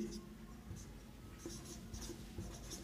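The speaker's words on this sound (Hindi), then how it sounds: "तो पहले लिख लेते हैं" Pen strokes on paper while a Class 10 math problem is worked out: faint, quick scratchy marks in short bursts over a low steady hum, with no voice.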